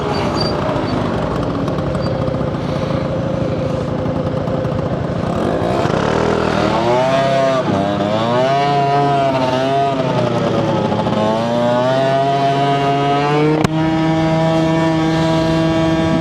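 An Aprilia SR 50 scooter, just woken from winter storage, runs nearby with a buzzy two-stroke note. It idles, then revs up and down in wavering swells before settling into a steadier, higher idle, with a sharp click near the end.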